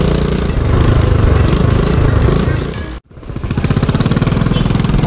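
Motorcycle engine running loud and close with a steady throbbing pulse, briefly cutting out around three seconds before revving back to a rhythmic idle, as heard during a moto vlog setup test.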